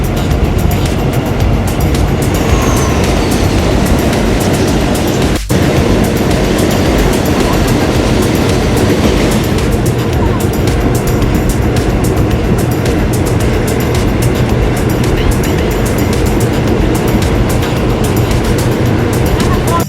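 A passenger train in Thailand rumbles along the rails with a constant loud roar and rattling, with a voice speaking over it.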